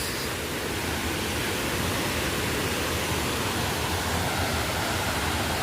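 Situbo Falls in Tampilisan pours with a dense, unbroken roar of rushing water, close and steady throughout with no voices.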